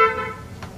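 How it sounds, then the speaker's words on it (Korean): A car horn honks briefly outside on a nearby street, heard from a third-floor room: a short, fairly loud tonal blast that fades quickly into low background hum. "빵빵 소리 들린다고."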